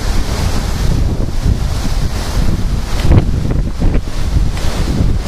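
Strong, cold outflow wind gusts steadily ahead of a supercell thunderstorm near St. Louis, a constant loud roar buffeting the microphone with no talking.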